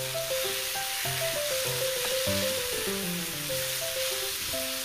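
Onion, chiles and garlic fry in a pan for salsa, a steady soft sizzling hiss running throughout beneath background music.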